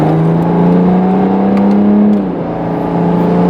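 A tuned BMW 335d diesel with over 600 lb-ft of torque pulls hard under acceleration, its loud engine note rising steadily up close before easing off briefly near the end.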